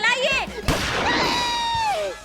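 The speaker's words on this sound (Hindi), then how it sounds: "चलाइए पुष्पा जी, गोली चलाइए" A single sharp gunshot cracks out amid loud overlapping dramatic sound, followed by sustained noisy rumble and sweeping tones.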